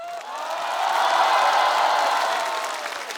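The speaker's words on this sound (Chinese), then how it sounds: "我们再给他一轮掌声，好不好？" Audience applause and cheering at a stand-up comedy show, a dense wash of clapping that swells through the middle and tapers slightly at the end, loud and continuous with no talk over it.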